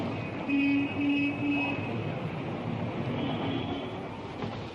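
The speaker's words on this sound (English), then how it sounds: "It's our train." A passenger train departs, a steady rumble of rolling cars under a station hum, with several short horn-like tones near the start and a higher whistling tone later.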